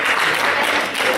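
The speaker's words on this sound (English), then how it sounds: "give your mom and dad a great round of applause" A high school swim banquet audience breaks into applause, a dense, steady burst of many hands clapping together, loud and close, with no voices standing out.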